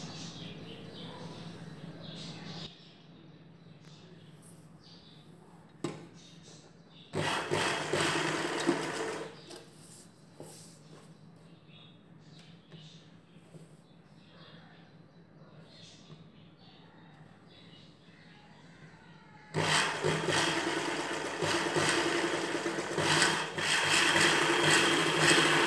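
An electric sewing machine stitches a ghagra choli in two loud whirring runs, a short burst early and a longer one at the end, separated by quieter handling and fabric rustle.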